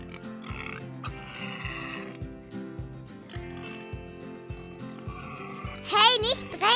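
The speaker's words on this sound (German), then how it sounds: "Und jetzt sind die Schweine dran." Pigs at morning feeding time on a farm grunting and squealing, a brief, louder burst near the end over background music and speech.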